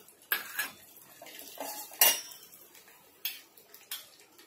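Cashews, almonds and pistachios being stirred in a steel pot, giving a run of sharp metallic clinks and scrapes at an irregular pace, close and fairly loud with no talk.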